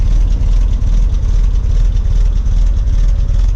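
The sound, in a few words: 1959 Triumph TR3 engine running, exhaust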